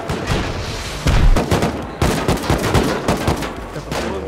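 Loud, rapid bursts of gunfire ring out in the survival video game Rust, with dense automatic volleys and overlapping shots that fill the whole stretch, close and harsh.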